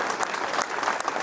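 An audience at a Hindi heroic-verse poetry recital claps together in a brief, dense burst of applause, steady and fairly loud throughout.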